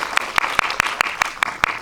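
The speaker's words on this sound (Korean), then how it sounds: "박수 조금 주세요" Brief applause from a film screening audience at a guest talk, evenly spaced, sharp claps from a small group clapping in steady rhythm for under two seconds.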